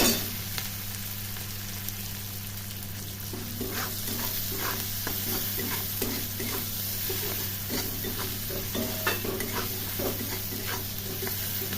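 Food frying in a hot pan with salt and being stirred, a steady sizzle under repeated scraping and clinking stir strokes, close and continuous, with no talking.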